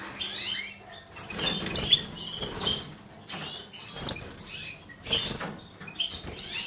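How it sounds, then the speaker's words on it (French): Bullfinches in a cage or aviary, with wings fluttering and flapping and soft chirps and calls, in repeated bursts close to the listener against a quiet background. "Voilà. Les beaux bouvreuils."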